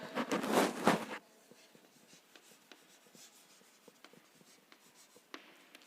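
Pen writing out a physics solution on paper, a dense burst of scratchy strokes for about a second, then faint, sparse taps and scratches of the pen alone in a quiet room.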